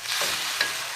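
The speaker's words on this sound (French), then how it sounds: "On va laisser mijoter quelques minutes, 2 ou 3," Beef with lemongrass and vegetables cooking over high heat in a pan, a steady close sizzle with brief stirring scrapes, no voices.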